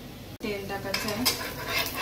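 A metal spatula scrapes and clinks against a pan while flipping a fasting-day bhagar (barnyard millet) dosa, a sharp tap followed by light sizzling and scraping close by.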